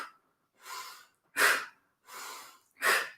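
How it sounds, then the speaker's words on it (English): Deep breaths drawn in through the nose and let out during a morning meditation and wake-up yoga session, heard as alternating soft and sharper breaths, five in a row, close and quiet with no talking. "Deep breath through the nose on that inhale."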